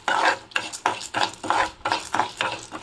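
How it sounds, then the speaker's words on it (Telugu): Coriander seeds, chana dal, chilli seeds and cumin dry-roasting in a pan for Guntur-style ginger pickle: close, rhythmic scraping strokes of stirring, about three a second, with a light rattle of seeds. "2 స్పూన్ల పచ్చిశనగపప్పు, 2 స్పూన్ల మిరపగుండ్లు అండ్ ఒక స్పూన్ జీలకర్ర వేసుకొని వేపుకుందాము."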